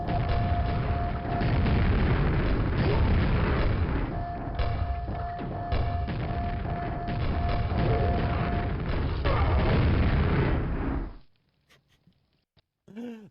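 Grenade blasts in the Duke Nukem video game: continuous rumbling booms and heavy thuds layered into a dense roar for several seconds, then cutting off abruptly to near silence.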